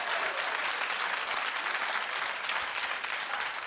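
A talk show studio audience claps continuously in an even wash of applause, heard at moderate distance without speech.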